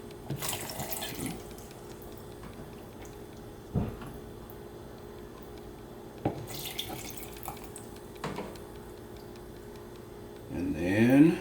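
Spring water poured into a blender for an alkaline hemp fruit smoothie, a faint steady trickle with a few soft knocks and clinks of containers, ending in a louder splashing pour near the close.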